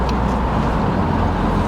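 A 4-cylinder Foxbody Mustang pulls steadily in fourth gear, its engine and road noise a loud, constant drone heard from inside the car.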